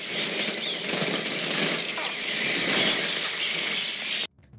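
Dense, continuous rush of many birds' wings beating from the 1963 film The Birds, loud and steady like a gusty roar, cutting off abruptly near the end.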